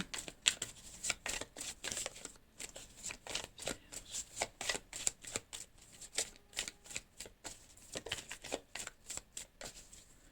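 A deck of cards shuffled for a card reading, a long run of quick riffling and snapping bursts in an uneven rhythm, close and clear with no voices.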